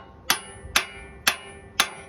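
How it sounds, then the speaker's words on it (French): A hammer taps on the upper screwdriver while removing an engine flywheel: four sharp, ringing metallic strikes at a steady half-second rhythm, close and distinct with no talking. "je vais mettre un petit coup de marteau sur le tournevis du haut"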